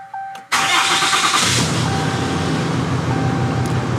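A 6.7-liter diesel engine in a fifth-generation Ram 2500 pickup cranks briefly, catches loudly and settles into a steady close-up idle.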